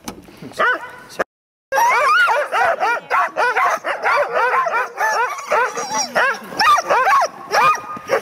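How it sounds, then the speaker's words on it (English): Alaskan Husky sled dogs bark, yip and whimper excitedly in a busy, overlapping chorus, loud and close, with a short pause before the barking resumes continuously. "we are going to use a team of eight dogs, eight Alaskan Huskies"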